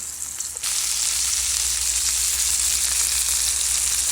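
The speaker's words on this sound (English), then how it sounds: "So I fried them on 2 minutes each side." Chicken pieces for chicken parmesan fry in a hot pan, a loud, dense, steady sizzle that bursts in suddenly after a brief quieter moment and holds close and unbroken.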